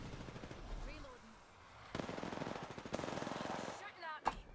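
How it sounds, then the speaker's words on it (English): Video game gunfire crackles in fast automatic bursts, rattling steadily for a couple of seconds, breaking off, then starting again, with a sharp single report near the end. "They're shooting at me."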